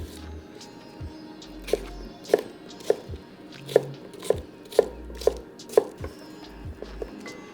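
A knife chops cucumber on a cutting board with a string of crisp, evenly spaced taps, close and clear over quiet background noise with a few low bumps.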